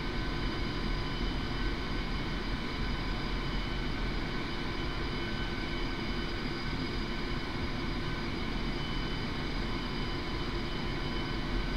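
An Su-25T jet taxis toward the runway in a flight simulator game, giving a loud, steady, unbroken engine roar and whine that holds at the same level throughout.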